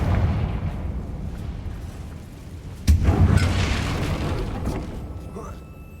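A Confringo fire spell explodes in Hogwarts Legacy, a sudden loud boom near the middle of the clip that rings out over dense, rumbling combat noise and game sound.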